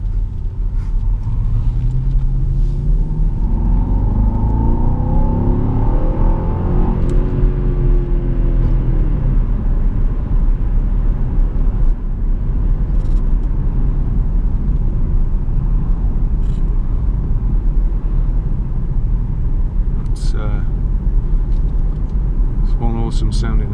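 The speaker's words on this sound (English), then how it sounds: "Awesome sounding engine." A Jaguar XF 5.0 V8 S accelerates, its engine building from a deep rumble with rising tones heard from inside the car. A loud low drone continues throughout, with a few brief clicks.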